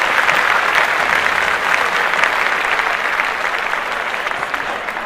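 Dense, steady applause on a podcast, a continuous wash of clapping at even loudness throughout, likely a played-in effect with no talk over it.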